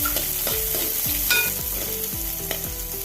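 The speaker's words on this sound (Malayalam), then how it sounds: "ഒരു ടീസ്പൂൺ കടുക് കൂട്ടി കൊടുത്ത് കടുക് കൂട്ടി വരുമ്പം ഒരു വലിയ സവോള നൈസായി എരിഞ്ഞ് വെച്ച് കൊടുക്കാം എന്നിട്ടൊന്ന് ഇളക്കി കൊടുക്കാം" Onion and mustard seeds sizzle steadily in hot oil for an ivy gourd thoran, with a spoon scraping the pan in repeated close stirring strokes over the continuous frying.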